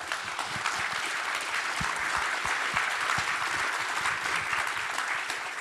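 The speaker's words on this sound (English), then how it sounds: "I think all the growers are clapping their hands there." Growers in a conference plenary audience clap their hands, a dense steady applause from a large crowd with occasional louder individual claps, continuing without a break.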